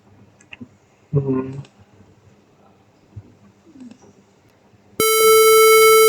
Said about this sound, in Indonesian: Buzzer akan berbunyi sebagai alarm bahwasanya di luar hujan